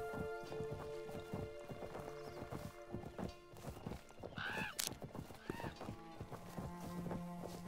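Horse hooves clip-clopping in the online game Fractured Online, a steady rhythmic trot near and clear, with a whinny partway through and game sounds around it.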